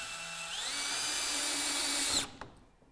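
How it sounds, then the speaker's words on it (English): A power drill runs steadily for about two seconds driving a 30mm screw into a roof batten during a roof window installation, whining close and loud before stopping abruptly, with no talk. "we also then just insert a 30mm screw"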